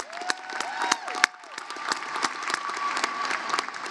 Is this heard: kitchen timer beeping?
no